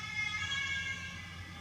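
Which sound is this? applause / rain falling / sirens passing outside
sirens passing outside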